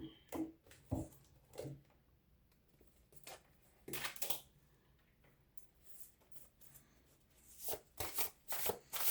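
Love tarot cards shuffled and drawn by hand, a run of soft riffling bursts and papery flicks coming in irregular clusters, close and fairly quiet, with no talking.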